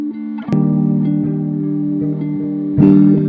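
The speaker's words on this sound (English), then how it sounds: "I just came up with a simple guitar lead here." A simple electric guitar lead of a few sustained notes, bright and clean, with a slight pick attack at the start and near the end.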